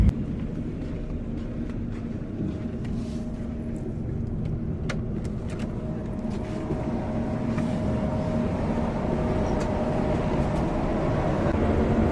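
A Volvo B11R iShift multiaxle sleeper bus engine runs with a steady, deep diesel rumble, holding an even drone close by and swelling slightly louder toward the end.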